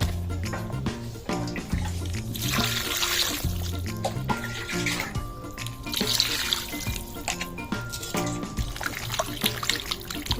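Chicken pieces are washed by hand in water, with continuous splashing, trickling and dripping close by and rhythmic handling sounds throughout, plus a faint voice in the background.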